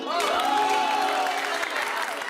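Applause from a studio audience on a Hindi family sitcom set, a dense steady wash of clapping with a tonal voice or music line running underneath.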